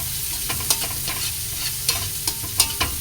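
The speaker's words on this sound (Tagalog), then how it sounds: "Haluin ulit natin ito para mag-combine" Onions stirred in a frying pan for menudillo with egg, a spoon scraping in sharp, irregular strokes over a steady sizzle, close and fairly loud, with no voices.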